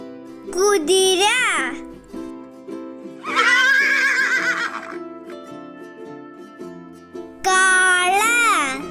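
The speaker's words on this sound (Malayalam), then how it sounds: "കുതിര" Horse whinnies ring out loud and close three times, shrill descending neighs at the start, middle and end, separated by a child's speech and soft background music.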